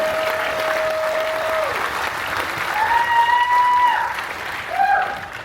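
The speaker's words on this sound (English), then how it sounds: "Give yourselves a huge round of applause." Cruise ship theatre audience at a magic and escape-artist show gives sustained applause, with whoops and drawn-out cheers rising over the steady clapping and crowd noise.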